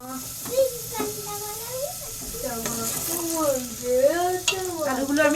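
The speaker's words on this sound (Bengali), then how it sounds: "লবণ হলুদ দিয়ে আলুটাকে আমি ভেজে নিচ্ছি।" Potatoes frying in oil with salt and turmeric, a steady sizzle and stirring running under a person talking throughout.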